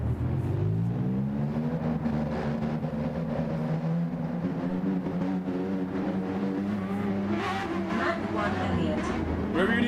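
A Lexus race car engine in Gran Turismo 7 drones and revs continuously at close range, its pitch rising through gear changes, with a voice talking over it.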